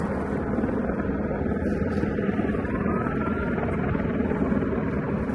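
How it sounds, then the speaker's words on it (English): Continuous droning rotor and engine noise of a helicopter over the Las Vegas Strip during a police chase, steady and fairly close, with no talking over it. "And it's a helicopter too."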